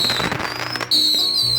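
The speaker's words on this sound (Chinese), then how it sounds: "100个参天猴一起给它放了" A hundred sky rocket fireworks set off together at once, a loud, dense barrage of crackling bursts with shrill rising whistles streaking through it, close by and continuous.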